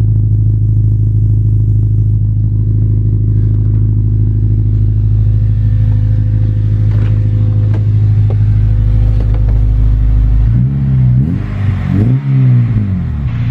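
Honda Type R engine fitted with a Japspeed 4-2-1 exhaust manifold, idling with a loud, deep steady rumble up close, then blipped into a couple of quick revs near the end.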